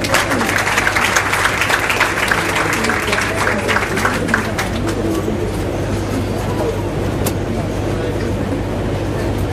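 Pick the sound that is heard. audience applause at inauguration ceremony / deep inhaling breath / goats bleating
audience applause at inauguration ceremony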